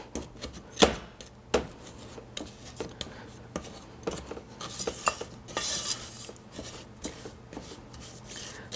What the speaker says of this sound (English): stir it around a little to hasten the process